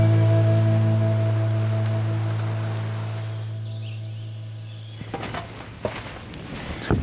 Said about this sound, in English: I've got a very brief lull in the rain.